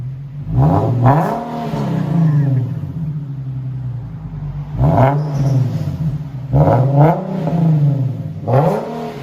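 A 2015 Nissan 370Z 3.7L V6 with dual exhaust and muffler delete revs hard in repeated bursts, a loud, raspy exhaust roar rising and falling about four times, close by, with faint voices underneath.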